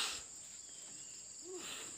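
Crickets kept as bird feed chirp in a steady, high-pitched continuous trill, quiet and close, with faint background noise.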